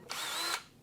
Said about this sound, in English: All right, I got a drill right here.